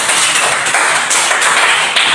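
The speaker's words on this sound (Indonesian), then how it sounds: "berikan tepuk tangan" Classroom applause from a group of students, a dense, continuous patter of clapping hands that holds steady and fairly loud throughout.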